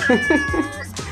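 A cat meows three times in quick succession, loud and close, with a drawn-out whiny tone and no other sounds around it.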